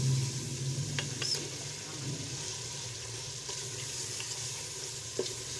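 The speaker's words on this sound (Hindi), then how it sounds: "अब थोड़ी देर गोश्त को इसमें भूनेंगे" Steady sizzling and crackling of chicken frying in onion gravy in a karahi, with a few soft scraping stir sounds and a brief clink near the end, no talking.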